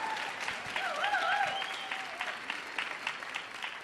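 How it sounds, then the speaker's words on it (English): Audience at a Peace Corps storytelling showcase on the Millennium Stage claps for a storyteller, a steady, moderately loud round of applause with a brief voice rising over it near the start. "Can we get another round of applause for Lisa Darren Grossman?"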